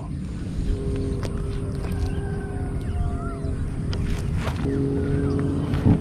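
A steady engine drone hums over water throughout, with faint wildlife sounds and a few brief splashes in the background.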